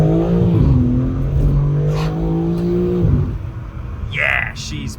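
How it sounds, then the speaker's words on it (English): A 2023 BMW M3 Competition with a 510-horsepower straight six and xDrive pulls away hard, its exhaust droning and rising in pitch through the gears, heard from inside the cabin beneath a man's speech. "Some exhaust noise as we take off."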